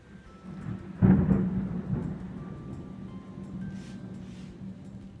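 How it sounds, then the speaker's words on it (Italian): A thunderstorm with heavy rain in the mountains: a deep thunder rumble swells and fades over steady, hissing rain falling near a wet balcony. "sembra di essere ai tropici con questi temporali forti"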